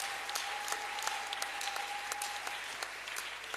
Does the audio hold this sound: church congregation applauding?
yes